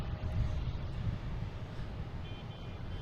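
A JetBlue airliner at Boston Logan airport gives a faint, distant jet-engine rumble mixed with light wind noise throughout.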